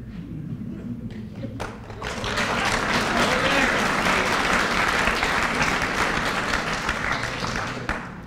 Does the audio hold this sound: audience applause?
yes